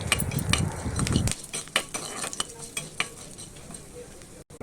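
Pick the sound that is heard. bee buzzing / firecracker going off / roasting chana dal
roasting chana dal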